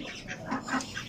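Ducks quacking and calling close by, a few overlapping nasal honks in a short, busy burst over a noisy farmyard background.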